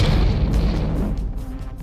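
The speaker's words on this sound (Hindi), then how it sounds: "और फिर कान फोड़ू धमाका।" A loud, deep bomb explosion boom with heavy low rumble that slowly fades, no voices.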